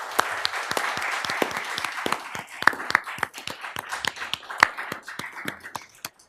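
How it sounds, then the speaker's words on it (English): Applause at a board meeting, a modest group clapping with distinct individual claps audible in a loose, uneven rhythm, moderately near and without talk. "I give them a round of applause as well as you to say thank you for your bravery"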